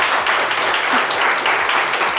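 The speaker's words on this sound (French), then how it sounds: "Applaudissez" A studio audience on a French-language Ivorian talk show claps loudly for a guest, a short, full burst of applause lasting around two seconds.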